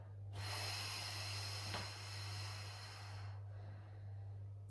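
A single long, forceful exhale through the nose or mouth during a lower abdominal workout, a close breathy hiss lasting about three seconds over a low steady hum.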